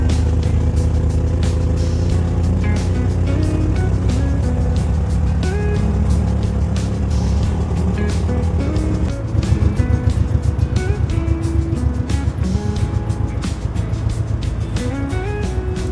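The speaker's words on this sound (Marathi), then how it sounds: "लोंढे रस्त्याला चालू आहे आपली गाडी आता." A loaded vehicle carrying millet drives along a village road toward the weighing scale, its engine a steady loud drone with constant rumble and rattling throughout, no talk.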